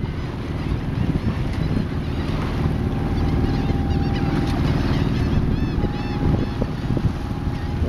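A Cape Dory 25D sailboat motors up Mobile Bay in calm air, its engine droning steadily under water wash and wind noise on the microphone.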